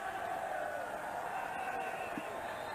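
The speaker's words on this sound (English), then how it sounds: "The Australian crowd are pretty fired up here. Not many here, but they're making some noise, that's for sure." Crowd noise from a sparse Australian cricket crowd during a Pakistan versus Australia test match in the Cricket 2002 video game, a steady, dense roar holding evenly throughout.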